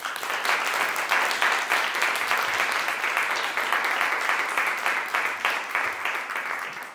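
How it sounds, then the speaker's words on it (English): Steady, dense applause from a school audience of girls after a piano recital, sustained and fairly loud throughout with no talk over it. "Girls, can you give him another round of applause?"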